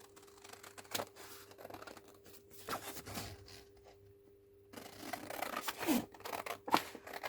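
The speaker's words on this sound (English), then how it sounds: "And I'll just cut this out with my" Several crisp snipping and crinkling sounds of scissors cutting paper, close by, with irregular pauses between cuts.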